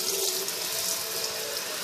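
Tap water runs steadily into a sink, a close, continuous splashing rush for the whole stretch with no speech.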